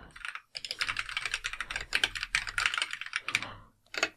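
Rapid keystrokes on a computer keyboard while a command is entered, a dense run of close clicks with a short pause near the start and another before a final burst.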